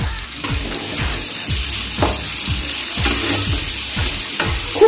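Onion, green chilli, capsicum and tomato stir-fry in a hot pan with a steady close sizzle, while a spatula scrapes and knocks in a regular rhythm about twice a second.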